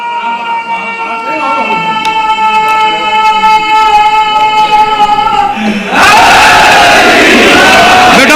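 A crowd at an Ashura Muharram gathering in an imambargah on Railway Road, Lala Musa, erupts into a loud, broad roar of shouted slogans for the last two seconds, following a long, sustained vocal tone held over a quiet hall.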